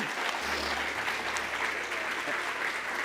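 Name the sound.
congregation applause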